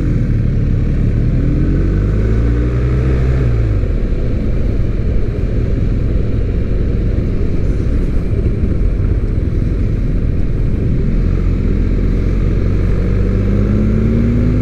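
A BMW R1250R motorcycle engine drones loudly and continuously on a test ride, with rising and falling pitch as the rider shifts through gears, heavy wind rush over it throughout, close and with no talk.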